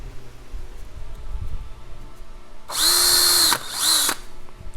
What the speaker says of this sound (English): start drilling holes in it